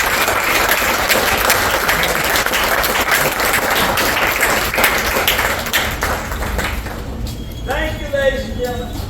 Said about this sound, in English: How about a round of applause for the Buddha and the gunfight?